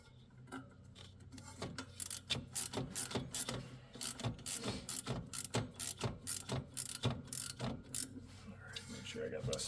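A ratchet wrench clicks in quick repeated strokes while a starter bolt is snugged down on a 739cc Rato engine, close and crisp, with brief pauses between bursts of clicking.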